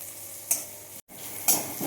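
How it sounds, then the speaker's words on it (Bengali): Sliced onion and dried red chili frying in oil in a pan, a soft steady sizzle broken by two brisk stirring scrapes and a momentary dropout, close and without voices. "এবার তেলেতে শুকনো লঙ্কা দিয়েছি, তারপরে পেঁয়াজটা দিয়ে দিয়েছি"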